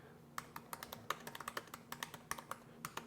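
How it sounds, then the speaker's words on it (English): Typing on the thin, flat keys of a 15-inch Apple Retina MacBook Pro with Touch Bar, a quick uneven run of loud, crisp clicks close by, with no talking. "it's really hard to be quiet typing on this keyboard."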